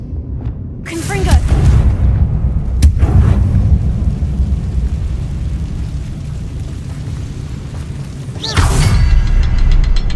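Fiery blasts from the Confringo spell in Hogwarts Legacy, two loud booming bursts several seconds apart with a rumbling whoosh and sharp crack between them, mixed with game sound.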